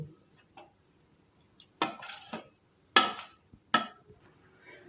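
A spoon clinks and scrapes against a bowl while onions and tomato are mixed into pumpkin raita, with a few sharp knocks spaced apart amid quiet pauses.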